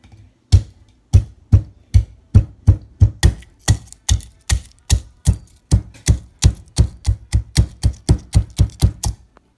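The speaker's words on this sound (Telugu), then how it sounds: "వెల్లుల్లి రెప్పలు 3 అది పచ్చాగా దంచేసి దాంట్లోకి" Raw garlic cloves pounded coarsely by hand, a loud, steady series of around twenty sharp thuds in an even rhythm with no talking.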